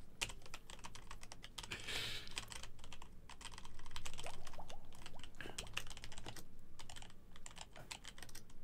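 Rapid typing on a computer keyboard during a Minecraft play session: a steady stream of quick, irregular key clicks, fairly quiet and close, continuing for several seconds with no voices.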